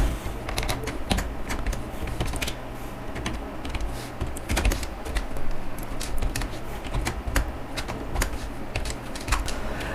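Fast, irregular keystrokes clatter close up as C++ code is typed on a computer keyboard, continuing steadily for the full stretch with no voices.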